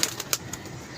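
A pigeon flaps its wings while held in the hand, giving three or four quick, close feathery bursts at the start before fading to a quiet background.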